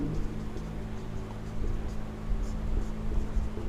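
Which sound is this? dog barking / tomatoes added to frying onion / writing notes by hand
writing notes by hand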